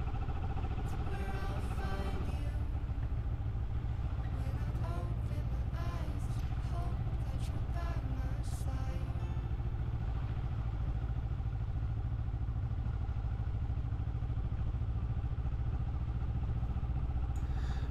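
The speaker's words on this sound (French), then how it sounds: "Allez, on reprend la moto pour le point culminant de Gorem." A motorcycle engine hums steadily throughout with some rattling and clatter, a continuous ride at moderate speed on roads in Cappadocia, Turkey, with a faint voice early on.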